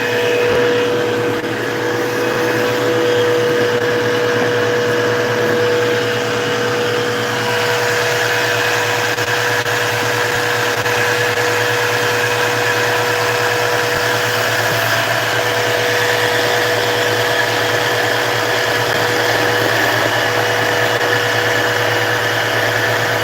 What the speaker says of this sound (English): let's get this vacuum cleaner turned on. This is going to get noisier for a minute.